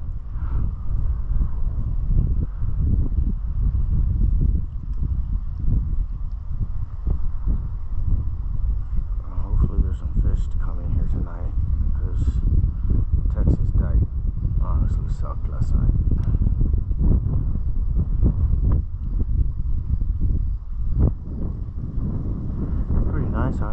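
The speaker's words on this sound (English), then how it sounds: "Hopefully the wind calms down a little bit." Strong wind buffets the microphone out on the water at night on a fishing trip at Matagorda, a continuous loud low rumble with gusty surges and faint splashing throughout.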